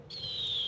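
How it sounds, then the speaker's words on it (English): A bird chirps in Kingdom Hearts 2 with one sustained, high whistling call that holds steady for under a second. It sounds clear over a low background hum, and no one talks over it. "This bird kind of sounds like it's about to set off an AC-130"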